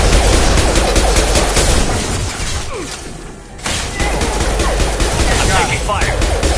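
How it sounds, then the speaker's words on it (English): Rapid video-game gunfire from a firefight in Mass Effect 2: dense, loud bursts of shots and impacts that keep rattling almost without pause, with only a short lull in the middle. "I'm taking fire."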